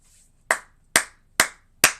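Four sharp hand claps ring out alone at an even, unhurried pace, each a crisp loud snap with a short decay, separated by quiet gaps.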